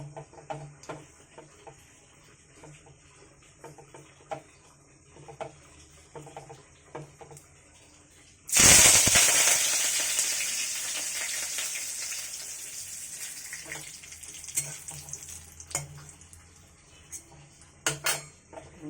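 Curry leaves and tomato drop into hot oil tempered with five-spice, bursting into a loud sudden sizzle that slowly settles into steady frying, with faint utensil clinks before and after.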